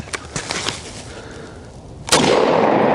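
An airsoft gun fires pellets at Pyramex safety glasses, giving a few sharp snapping shots early on and then a louder crack followed by a sustained rush of noise, close and punchy with no voices.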